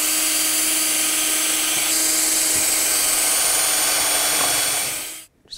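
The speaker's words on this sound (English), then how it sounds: "going to drill a couple of countersinks in our fence here and then use some screws" A power drill bores countersinks into a wooden fence for screws, giving a steady, loud, high-pitched whine that holds for about five seconds before cutting off abruptly.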